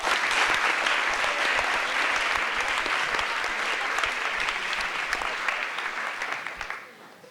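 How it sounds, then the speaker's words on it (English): Dense, steady applause from a banquet audience at a high school football and soccer awards night fills the room close and loud, fading away in the final second. "Let's give them one more round of applause."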